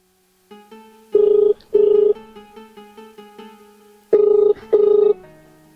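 A telephone rings in two pairs of sharp, steady electronic tones, loud and close, over a soft background melody with a gap between the pairs, in a Haryanvi comedy scene.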